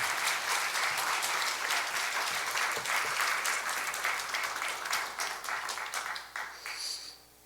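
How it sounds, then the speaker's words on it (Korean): A church congregation claps to welcome the pastor, a dense sustained wave of applause that holds steady and then thins out and fades toward the end. "우리 목사님 나오실 때 크게 환영의 박수로 맞이하겠습니다"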